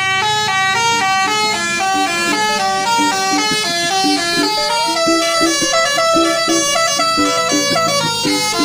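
A bus telolet basuri horn fitted with double top trumpets plays a loud, close, continuous melody of quick stepped tones, sounding unbroken throughout.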